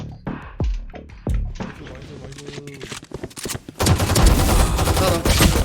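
Gunfire in the Valorant video game, including the Operator sniper rifle, comes as sharp, loud shots in an early cluster and then gives way to dense, sustained rapid fire, with faint footsteps and game effects in between.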